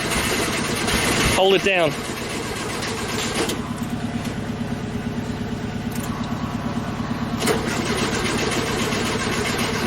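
A Volkswagen engine cranks and catches with a sharp burst near the start, then settles into a steady, close idle with small rises in revs, while people talk over it.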